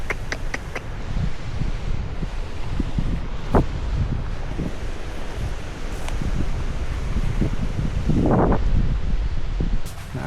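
Strong wind gusts blow steadily across an open farm planted with crops, a broad rushing roar with leaf rustle and occasional buffeting against the microphone, rising toward the end.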